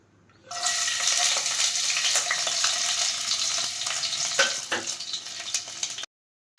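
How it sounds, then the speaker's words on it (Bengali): Chopped garlic sizzles steadily in a hot pan for a homemade spaghetti sauce, a bright crackling hiss that starts abruptly and runs evenly for several seconds before cutting off. "এরপর রসুন কুচিটা একটু ভাজা হলে"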